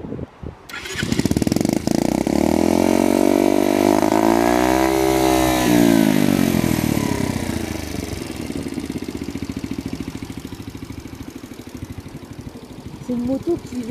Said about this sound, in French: C'est une moto qui veut s'en aller.